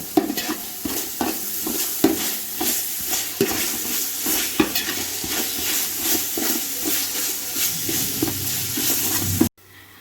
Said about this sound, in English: Stir well. Make sure that the ginger garlic paste and onions get mixed well, and both together must turn golden brown.